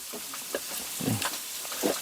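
Pork fat (salo) sizzles in a frying pan, a dense continuous crackle and hiss running throughout, close and fairly loud, with faint clattering of stirring.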